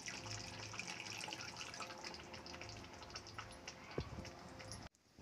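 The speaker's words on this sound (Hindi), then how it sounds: "अब मैं इसमें 1/2 गिलास पानी डाल रही हूँ।" Half a glass of water pours into a pan of egg curry in a home kitchen, a steady close splashing stream that runs for several seconds before stopping, with no talking.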